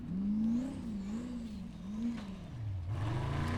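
A Chevy V8 turbo engine in a converted Suzuki offroad race car revs and wails, its pitch rising and falling in repeated swells before dropping and climbing again, loud and close against a busy outdoor event background.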